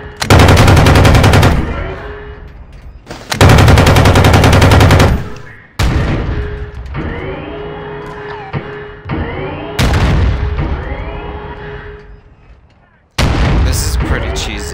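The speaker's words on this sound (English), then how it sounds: "Machine gun gunner in your tank, you can shoot all the guys that try to run up and throw grenades and stuff." A tank-mounted machine gun in Warzone 2.0 fires in long loud bursts separated by short pauses, with booming reports and echoing tails between volleys.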